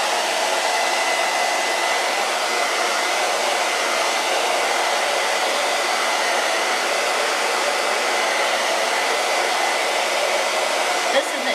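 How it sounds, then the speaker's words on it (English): A handheld dryer blows steadily on fresh paint on a wooden pumpkin sign, a loud unbroken whirring hiss that holds level from start to finish. "I'm going to hit that with the dryer so I can do a little bit of whitewash"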